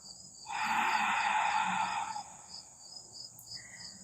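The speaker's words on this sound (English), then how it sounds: "Maybe returning to that Ujjayi breath, that ocean sounding breath, with that ha sound." Ujjayi breathing through closed lips gives a soft, airy, ocean-like rush: one sustained exhale of about a second and a half, close and moderately loud, then a quiet tail over a faint steady background tone.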